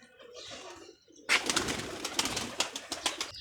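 Domestic pigeons coo at close range. A soft, muffled stretch gives way to repeated throaty coos with light rustling around them.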